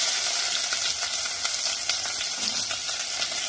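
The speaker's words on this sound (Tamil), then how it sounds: "நல்லா அது பச்சை வாசனை போகிற அளவுக்கு நம்ம நல்லா வதக்கி விட்டுக்கணும்" Sliced onions sauté in hot oil seasoned with cumin and fennel seeds, giving a steady, dense sizzle with faint crackles and occasional utensil scrapes, close and continuous with no talking.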